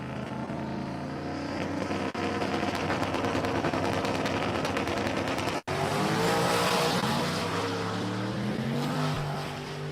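Drag racing cars launch at a dragstrip qualifying round, including a third-generation Camaro, with loud continuous engine roar and rising harmonics, a brief dropout midway, then a second surge of revving that climbs in pitch.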